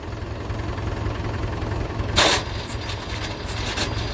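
A tractor engine runs at a steady low drone close by, with one brief louder rush of noise partway through, during cumin work on a farm.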